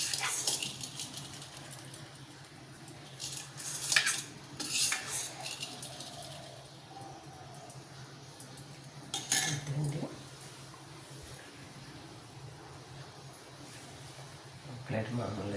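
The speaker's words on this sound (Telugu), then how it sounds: "ప్లేట్ మామూలుగా పెట్టేస్తున్నాను" Steel idli plates clink and scrape as they are set down and handled in a kitchen, giving sharp metallic knocks scattered between quieter rubbing sounds with a faint voice in the background.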